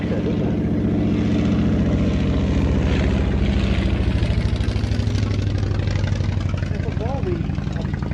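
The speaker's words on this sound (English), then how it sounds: "that little radial engine really does sound like something out of a tractor, doesn't it?" Polikarpov Po-2 biplane with a small radial engine turning over in a steady, low, throbbing drone, fairly close and continuous throughout, with a commentator speaking over the engine.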